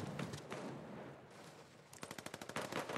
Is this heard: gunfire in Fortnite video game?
yes